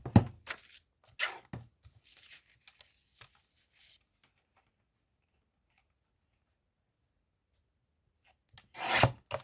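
Paper strip being trimmed for a junk journal: a few short, quiet rasping cuts near the start, a long hush, then one louder scraping cut at the end.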